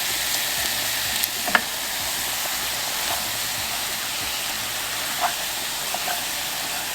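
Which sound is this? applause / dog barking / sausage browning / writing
sausage browning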